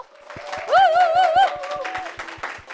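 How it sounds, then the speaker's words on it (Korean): Rhythmic applause from an audience at a forestry jobs conference presentation, with quick claps in a steady beat under a sustained, wavering vocal or musical tone that swells in the middle. "뜨거운 박수로 맞이해 주세요."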